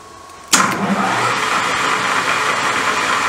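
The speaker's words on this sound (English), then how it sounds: "I'll let you watch me using the cutoff tool" A cutoff tool whirs up abruptly and keeps spinning at a steady high pitch as it cuts into plastic, loud and close with no voices.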